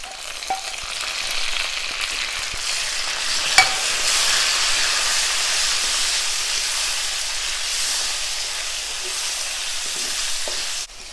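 Chopped tomato frying with onions in a pan gives a loud, steady, close sizzle and hiss that holds evenly throughout, with a single brief clink of utensil near the start and no talking.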